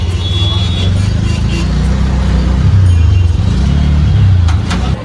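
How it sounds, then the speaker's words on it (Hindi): A car from Gujarat passes close by on a road, its engine a steady low rumble that swells midway and then fades, with general street traffic behind it and a voice speaking over it. "गुजरात की गाड़ी।"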